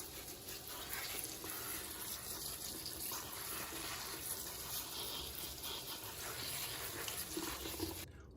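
A kitchen sink tap runs in a steady, moderately quiet rush for about eight seconds while water is drawn to soak a freshly repotted Cebu Blue pothos, then cuts off abruptly.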